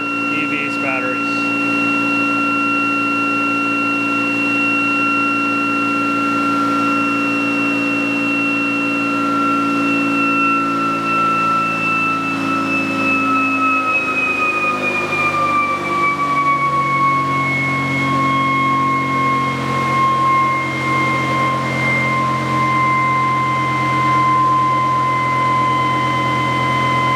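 A ReGenX generator running at 3,420 RPM in regenerative acceleration mode while charging an EV battery gives a loud, steady electrical whine with tonal hum that slides lower partway through.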